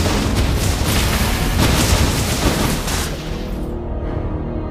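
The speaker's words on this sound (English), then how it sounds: "Your team destroyed a turret." Turret destruction in Mobile Legends, a Miya match: a dense, loud boom-and-rumble blast runs for about three seconds with crackling debris, then tails off into quieter game ambience.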